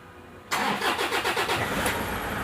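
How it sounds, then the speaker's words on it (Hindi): A Toyota Innova engine cranks and fires after a pickup-drop fault (code P0108) is cleared, jumping from near silence into a loud, close start that settles into a steady idle with a slight rev. "मैं आपको गाड़ी को स्टार्ट करके भी दिखाता हूँ।"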